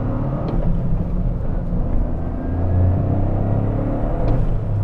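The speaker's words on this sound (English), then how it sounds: "I get so much more feedback from this engine than the Type R's 2-liter 4-cylinder" Inside a moving 2023 Toyota GR Corolla hot hatch, the engine gives a steady, loud low rumble with mild rises in revs while driving, and no one speaks.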